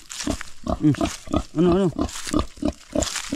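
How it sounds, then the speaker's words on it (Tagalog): A farm pig grunts and squeals repeatedly in loud, close bursts with uneven rhythm, and a person briefly speaks among the calls. "Kandi yung kabay, yung baboy ni utol."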